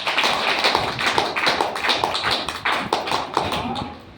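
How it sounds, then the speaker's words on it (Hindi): A crowd at a DXN agent achievement gathering in Badlapur claps loudly and densely, with overlapping sharp hand claps that continue without a break for the whole stretch. "उनके लिए एक बार जोरदार ताली बजाइए।"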